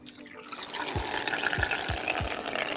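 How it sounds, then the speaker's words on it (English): Cold tap water runs into a spray mop's refill bottle held under a sink faucet, a steady splashing rush broken by a few low gurgling glugs as the bottle fills. "you just fill this up in the sink under running water"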